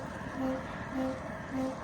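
A Royal Enfield Himalayan 450 motorcycle gives off a strange brake noise, three short, repeating tonal squeals spaced evenly about half a second apart over a low background rumble.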